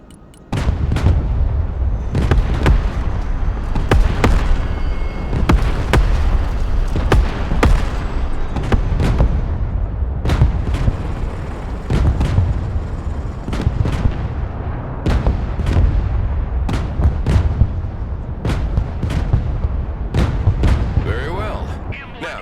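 Tank cannons fire armor-piercing kinetic rounds in the video game Broken Arrow, a rapid series of loud booming shots and impacts in a rolling barrage over constant battlefield rumble.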